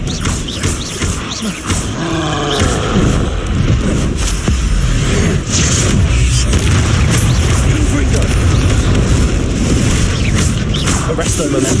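Heavy booming explosions from Confringo spells in the video game Hogwarts Legacy on hard difficulty, loud and sustained with repeated blasts over a roaring combat background.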